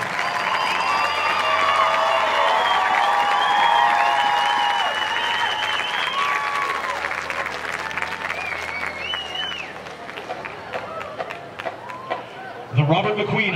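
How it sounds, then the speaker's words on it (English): A large crowd applauds and cheers for a high school marching band at a state championship. The applause is loud and sustained, with whistles over it, then thins out near the end. "Let's have another round of applause for the Robert McQueen High School Marching Band."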